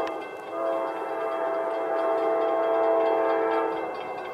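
A train horn sounds in a long sustained blast as a train rolls past, steady and fairly close, fading slightly at the end.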